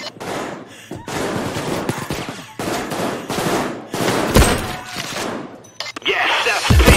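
Automated sentry guns in Payday 2 rattle off sustained rapid bursts in a nightclub heist, loud and close, pausing briefly between volleys, with sharp impacts and shattering mixed in.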